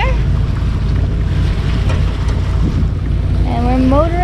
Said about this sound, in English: And we're motoring along.